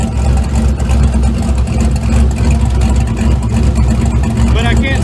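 A turbocharged LS V8 running through a straight-pipe exhaust, with a failed, chattering valve unhooked, roars loud and close in a steady, unbroken rumble for the whole stretch.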